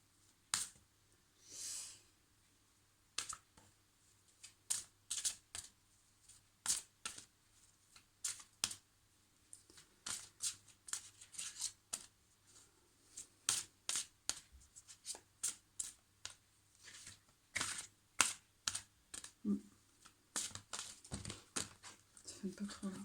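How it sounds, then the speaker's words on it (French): Playing cards being shuffled in repeated crisp riffles and flicks, close and fairly quiet, with a few brief pauses between bursts over a soft low hum. "J'ai un petit peu mal à battre les cartes ce soir."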